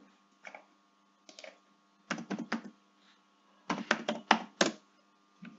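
Computer keyboard keys tapped out in small bursts while a captcha is entered, crisp close clicks in clusters of two to five separated by quiet pauses, with no voices.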